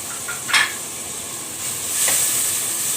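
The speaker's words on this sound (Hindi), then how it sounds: "इनको हम थोड़ा सा भूनेंगे जब तक मटरों का कलर चेंज नहीं हो जाता" Peas fry in a pan with salt, black pepper and red chili flakes for vegetable rice, giving a steady soft sizzle with a couple of brief stirring scrapes near the start and a louder hiss toward the end.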